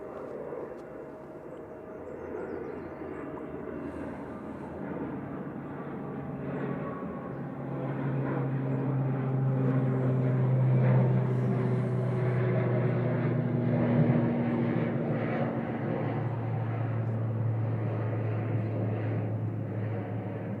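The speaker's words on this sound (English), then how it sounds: "So Eastern Airways ATR 72 600 off to Humberside," Eastern Airways ATR 72-600 turboprop taking off at Manchester Airport, a low droning engine roar that swells and holds steady over about twenty seconds, heard from a distance outdoors.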